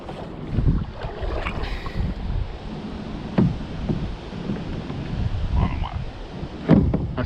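Strong, gusting wind buffets the microphone while a kayak is paddled on open water, with a continuous rumble and several louder gusts that swell and fade, and faint splashes now and then.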